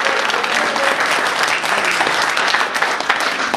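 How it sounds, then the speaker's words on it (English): Wedding guests applaud the bride and bridesmaids during a best man speech, a dense, loud, steady burst of clapping from a crowd that fills the room throughout. "can I have a round of applause for them?"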